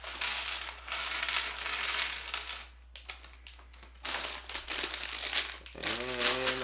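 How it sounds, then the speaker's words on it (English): Plastic bags of LEGO Technic 42088 parts rustled and torn open up close, crinkling in bursts with short pauses, followed by a voice at the end. "Let's open each one of these bags because they're not numbered."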